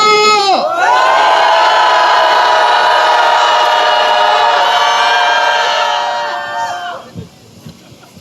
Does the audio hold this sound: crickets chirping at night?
no